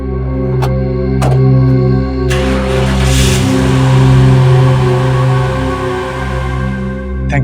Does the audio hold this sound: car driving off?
yes